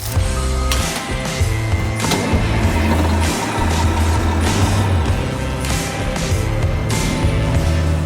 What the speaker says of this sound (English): So right here, the new spreader truck.